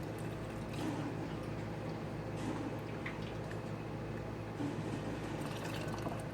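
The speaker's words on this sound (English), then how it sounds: "we're just going to grab our sauce and ladle it into the jar" Baked bean sauce ladled into a glass canning jar gives soft, wet pouring and dribbling sounds, faint and close, over a steady low kitchen hum.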